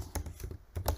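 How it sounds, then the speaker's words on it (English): Fingers typing on a computer keyboard, a few quick key clicks in a short, uneven burst, close and fairly quiet, no voices. "So I'm just gonna type it down like this"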